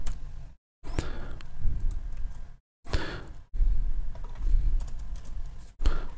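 Typing on a computer keyboard, bursts of quick clicky keystrokes at close range separated by short silent pauses, with no voices over it.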